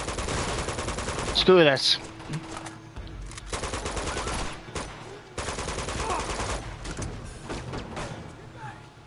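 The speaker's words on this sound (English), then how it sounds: "Okay, I'm just gonna shoot them all." Automatic gunfire crackles in Uncharted: The Nathan Drake Collection as enemies are shot, with loud bursts and rapid volleys mixed with game effects and someone talking over the action.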